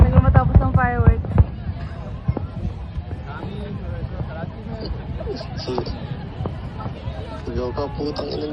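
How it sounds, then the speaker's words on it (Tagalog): New Year fireworks at the Burj Al Arab go off as sharp pops and booms within a noisy crowd, with people talking and shouting close by throughout. "Bago matapos ng fireworks."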